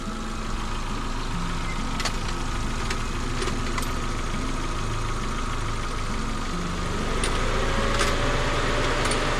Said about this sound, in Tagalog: Grabe, parang umano yung makina, no?